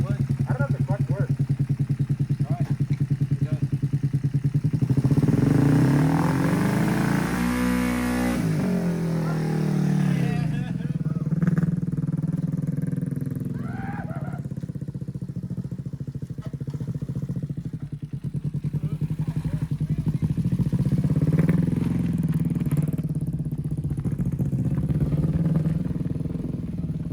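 Small engine of a home-built race lawn mower running close by with a steady, chattering idle that briefly revs louder midway, then settles. People talk over it.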